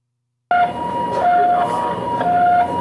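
An ambulance siren sounds at the scene of a two-car crash on a curving mountain road, a steady, loud wailing tone that holds on continuously and close by.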